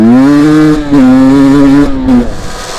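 A dirt bike passing on a wet trail: a loud close engine with a strong buzzing whine that holds steady, dips briefly, then drops in pitch as it moves away, with no talking.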